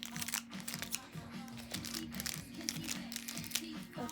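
Plastic packaging around a Monster High Twyla doll is cut and crinkled, giving close, quiet crackling and snipping at an irregular pace.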